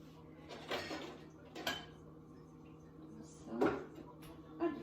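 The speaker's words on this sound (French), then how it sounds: "Sortir ma poêle pour mes œufs." A frying pan is pulled out of a kitchen cupboard to cook eggs, giving a few metallic clanks and knocks against other cookware, spaced apart over a quiet room hum, with soft talk nearby.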